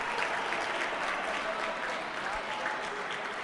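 Steady applause from spectators at an indoor futsal match, a dense, even wash of clapping that holds for the whole stretch, with a little commentary-style voice faintly mixed underneath.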